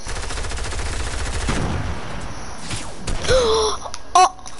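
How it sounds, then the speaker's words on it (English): A sniper rifle shot in a video game cracks sharply amid ongoing gunfire, followed by a brief groaning voice and a short electronic tone. "Oh, he just got sniped."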